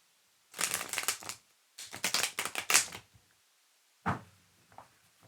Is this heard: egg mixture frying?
no